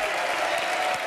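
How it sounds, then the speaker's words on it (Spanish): A studio audience at a Spanish-language Saturday variety TV show bursts into dense, continuous applause that fills the whole moment with no talk over it. "Aplauso para Monse, por favor"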